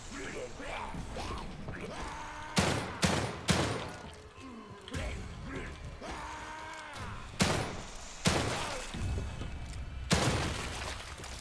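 Gunfire from the survival horror game The Evil Within 2, a run of sharp, loud shots in small bursts spread over the clip, set against a dense game soundtrack and effects, with talking mixed in.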